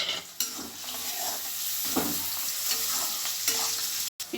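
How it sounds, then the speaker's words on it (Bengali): Carrots and capsicum frying in a kadai with cashews and raisins, a steady loud sizzle broken by scraping stirs every second or so, with no talk over it. "সবজিগুলো ভাজা হয়ে গেছে, কাজু কিশমিশ দিলাম"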